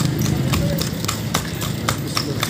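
Horse hooves clip-clopping on pavement while pulling a kalesa carriage, a steady close rhythm of sharp clops over road and engine hum, with people talking.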